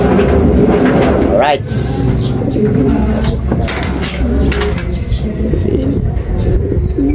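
Racing pigeons coo repeatedly inside a cage, with soft rolling calls rising over a constant outdoor background, while someone speaks briefly nearby.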